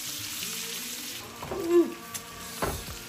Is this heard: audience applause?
no